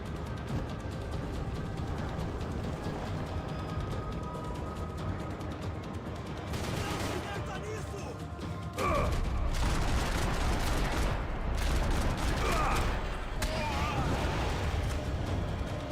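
Rapid gunfire bursts from the video game Max Payne 3, loud and dense, with heavier volleys in the second half.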